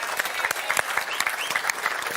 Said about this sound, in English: Big round of applause for Hamish.